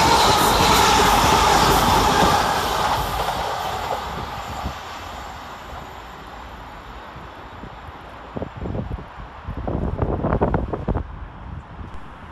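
A British Rail Class 350 train, working from Birmingham New Street to Shrewsbury, arrives at Sandwell and Dudley station: a loud whooshing pass with wind buffeting that fades, then softer clunks and rattles as it slows.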